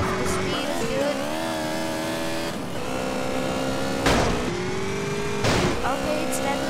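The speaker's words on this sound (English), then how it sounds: "This car, this bike, it's racing, it's good, the speed is good." A motorbike engine revs at high speed in GTA San Andreas, the game modded with a vehicle spawner, its steady whine rising and falling over several gear changes with a couple of sharp surges, loud and constant throughout.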